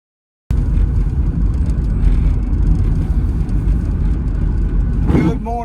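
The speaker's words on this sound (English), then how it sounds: "We are going for a ride on my 2003 Dodge Grand Caravan." A 2003 Dodge Grand Caravan minivan on the road, a loud, steady engine and road rumble that starts abruptly and holds even throughout, with a brief voice near the end.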